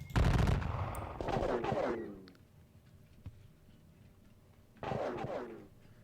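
Musket volleys crack out in Napoleonic Battles, a strategy game of the Austerlitz campaign: a loud opening burst, a second ragged volley, a lone faint shot, then a final volley after a pause.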